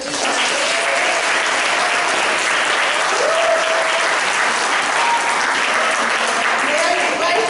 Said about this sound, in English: I think a big round of applause to the team